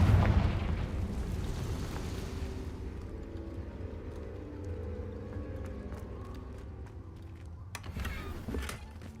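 A Confringo explosive spell from Hogwarts Legacy bursts with a loud broadband blast, then a long rumbling, crackling decay that fades over several seconds before a second, smaller crackle near the end.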